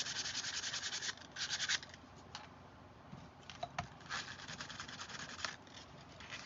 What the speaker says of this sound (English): I'm just sanding right here along the edges.